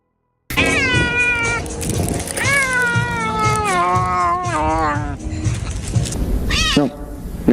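A cat meows and caterwauls in a long, drawn-out, wavering yowl that rises and falls, then gives a shorter sharp cry near the end, loud and close.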